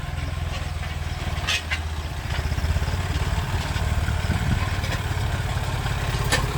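A Massey Ferguson 240S tractor works a weedy, dried-out vineyard, its engine giving a steady low diesel rumble with faint clatter that holds evenly across the whole stretch, with no voices.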